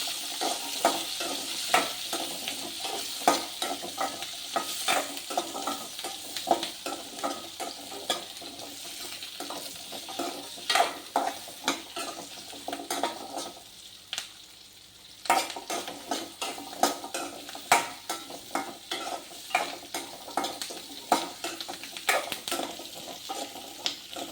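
Masala of ginger, garlic and tomato sautéing in a pan for a traditional fish curry, with a steady sizzle and frequent stirring scrapes and clinks throughout, briefly quieter midway before resuming.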